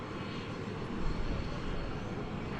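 Airplane engines at DFW Airport at night, a continuous broad roar that swells slightly partway through, steady and moderately loud with no talking.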